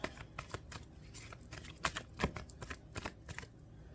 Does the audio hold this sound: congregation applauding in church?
no